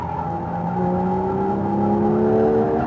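A Porsche 992 911 GT3 on a race track roars loud and close, its engine tone climbing steadily through the revs with a continuous, strained mechanical note.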